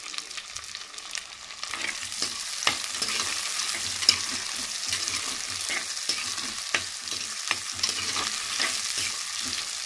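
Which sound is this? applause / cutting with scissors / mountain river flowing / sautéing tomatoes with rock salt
sautéing tomatoes with rock salt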